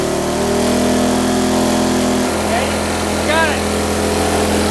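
A small carbureted engine runs without the choke, its loud steady drone shifting pitch partway through, with a short spoken remark over it.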